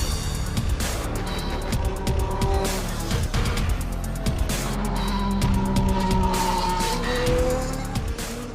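A 2018 Red Bull RB14 Formula 1 car engine, running as a steady, high-pitched droning whine with shifting harmonic tones that stay loud and continuous throughout.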